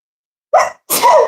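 A single sharp human sneeze bursts out close and loud, followed after a brief pause by a second noisy exhalation or sneeze, both standing alone without talk.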